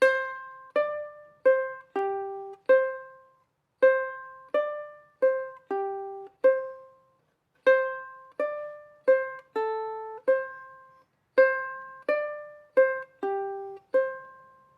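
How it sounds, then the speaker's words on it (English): Counter melody played on a keyboard or synthesizer, clean plucked-sounding notes in a rhythmic, repeating phrase with short gaps, close and clear with no voices. "The counter melody that occurs in the original track happens on a keyboard or a synthesizer,"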